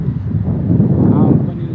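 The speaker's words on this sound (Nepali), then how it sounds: "हेर्नुहोस् यहाँ चाहिँ हावा चलिरहेको छ," Wind gusts across a park bridge in Abu Dhabi, a close, buffeting rush of air hitting the microphone in a brief, steady burst.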